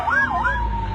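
A boy imitates an ambulance siren with his mouth, a loud, close wailing tone rising and falling in pitch, realistic and continuous.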